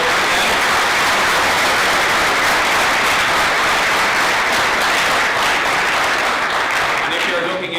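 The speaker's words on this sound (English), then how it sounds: "So maybe a big round of applause for them." Graduation ceremony audience applauding graduates conferred in absentia, a broad sustained wash of clapping filling the hall, loud and continuous and tapering slightly at the end.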